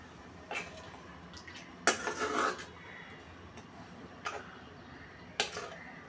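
A spoon scrapes and clinks a few times in a pan of dried lotte (Bombay duck) shutki curry being stirred, with short, faint bursts separated by quiet gaps and no talking.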